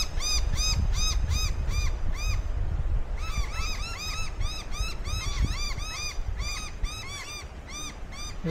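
Agitated birds at Bonnie Vale Campground give loud, harsh, crow-like caws, calling repeatedly and overlapping in steady bursts over a constant background rumble.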